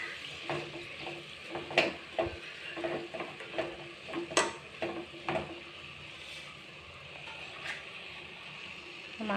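Small fish and taro stolons being mixed by hand with salt, turmeric and oil in a kitchen: soft wet squelching and light scraping in an irregular rhythm, with faint clinks and a steady low background hiss.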